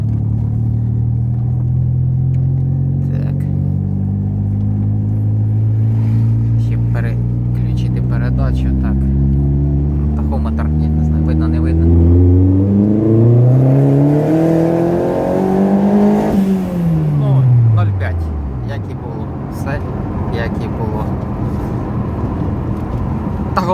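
Car with a C20LET engine and a freshly fitted turbo cartridge revs hard close by, the engine note climbing steadily in pitch for several seconds, then dropping sharply and settling into a rough idle with small throttle blips.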